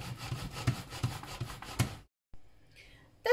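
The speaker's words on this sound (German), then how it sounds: "Jetzt werde ich die Hälfte aller Kartoffeln auf einer groben Reibe reiben." Boiled potatoes being grated on a coarse grater, a series of loud rhythmic rasping strokes close up for about two seconds, then a pause and a few fainter scraping sounds.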